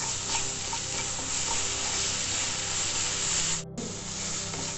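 Vegetables sizzle steadily in a hot pan while being stirred until soft, a dense continuous fry with light scraping strokes and a brief dip near the end.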